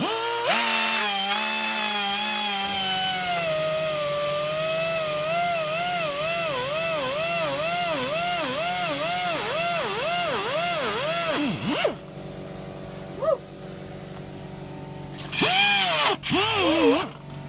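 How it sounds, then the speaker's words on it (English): A power drill whines continuously while reaming a pilot hole through a car tyre puncture, its pitch wavering as the tool works, then stopping, with short bursts of drilling near the end. "So first we need to do a pilot hole, okay, which is called reamering, and we're going to reamer the hole."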